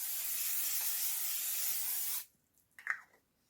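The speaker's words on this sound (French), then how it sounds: "c'est du coup un spray fixateur. Donc, il se présente comme ceci. Il est sous forme d'aérosol" A 50 ml aerosol makeup setting spray from Lidl releases one steady hiss lasting about two seconds, then cuts off, followed by faint small clicks and handling noises.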